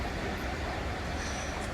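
A Zurich number 4 tram in motion, giving a steady low rumble of wheels and car noise that fills the whole stretch at an even level, with no voices.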